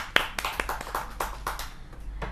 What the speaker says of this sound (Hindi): एक बार जोरदार तालियां हो जाए रसिक जी के लिए।